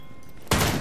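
Video game gunfire erupts suddenly as a loud, close burst of shots after a quiet moment, cut off within a fraction of a second.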